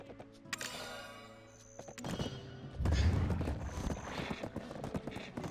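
Horse hooves in the online game Black Desert clopping over ground, a few light strikes and then a heavier run of thuds over faint game music and ambience.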